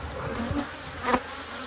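Honeybees in a nuc hive heavy with propolis, a close buzzing drone with a couple of brief louder swells as bees pass near.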